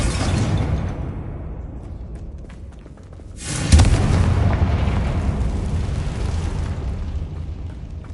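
A fiery Confringo blast erupts in Hogwarts Legacy gameplay: after a low rumbling stretch, a sudden loud explosive boom bursts out and its roar sustains, slowly fading over several seconds.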